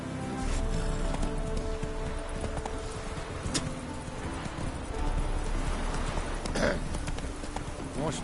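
The horse Roach galloping in The Witcher 3 game: steady rhythmic hoofbeats under continuous outdoor ambience, with a voice speaking briefly.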